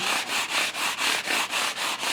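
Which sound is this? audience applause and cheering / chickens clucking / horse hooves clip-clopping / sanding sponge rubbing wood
sanding sponge rubbing wood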